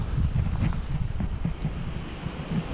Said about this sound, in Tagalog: dahil lang sa tubig dagat na dumadaan-daan sa hampas ng alon